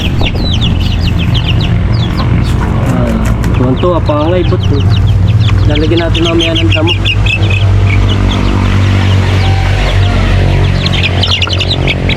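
Young chicks peep and chirp in rapid, high, repeated calls while being moved into a new home, close and busy throughout, with someone speaking over them and a low steady background hum.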